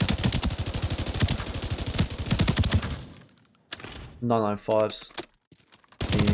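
A new gun being test-fired in the shooter video game Arena Breakout Infinite: a fast, loud automatic burst of rapid shots for about three seconds, then a pause, a short spoken phrase, and another burst starting at the end.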